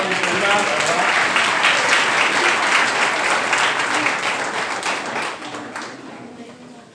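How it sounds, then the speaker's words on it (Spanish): Loud audience applause, a dense burst of clapping that holds steady for several seconds and then gradually fades. "un aplauso a Lucila que arrancó el programa"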